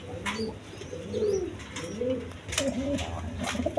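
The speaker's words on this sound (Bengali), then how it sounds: "এক পেয়ার গিরিবাস কবুতর আছে, হাই ফ্লাইং গিরিবাস কবুতর" High-flying Giribaz pigeons coo in several soft, rolling phrases nearby, with a few faint chirps and light background noise.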